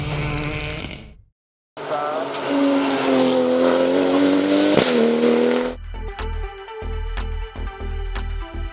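Production-class cars racing up the dry Turckheim hill climb course, a loud engine passing with rising revs and a sharp drop-off, followed by another car's throbbing, gear-changing engine at closer range.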